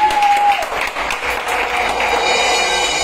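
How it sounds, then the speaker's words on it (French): A church congregation claps steadily through the whole stretch, loud and close, with a brief sung or spoken tone at the start. "Applaudissez d'abord pour les femmes"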